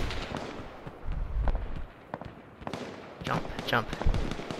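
Sharp gunshots crack through an H1 video game match in a loose irregular string of single shots and short bursts, moderately loud, with a player's voice shouting over the firing.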